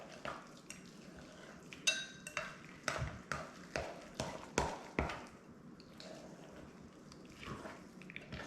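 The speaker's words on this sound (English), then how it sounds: "And I'm going to mix it with a spoon here." A spoon stirs sweet potato biscuit mixture in a bowl, giving a run of rhythmic scraping and knocking strokes, close and fairly quiet, with a faint room background between strokes.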